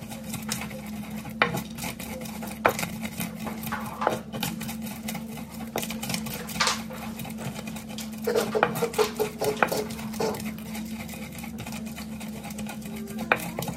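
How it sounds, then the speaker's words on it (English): White onions and peanuts are ground by hand for a Ghanaian dish, making repeated scraping and knocking strokes in an uneven rhythm over a steady low hum. "I begin with my white onions and the peanuts, and I'll just go ahead and grind it as much as I can."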